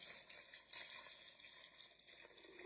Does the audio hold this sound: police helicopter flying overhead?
no